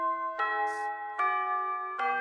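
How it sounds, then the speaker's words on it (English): A video game school bell chimes to open lunch break, ringing three clear, evenly spaced bell tones with sustained harmonic ringing, loud and close with no voices. "the bell finally rings, bringing a start to lunch break"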